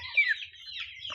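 A 73-day-old Andijan black chick gives a short, high cluck, close by and alone, followed by a softer trailing chirp.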